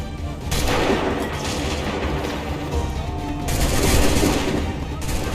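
Dense, continuous volley of gunfire in a video game battle after a command to open fire, loud and close, with overlapping shots and crashing impacts that swell again near the end.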